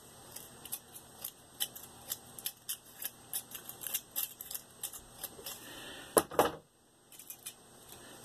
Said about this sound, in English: Once you're where you like it, start trimming again this way.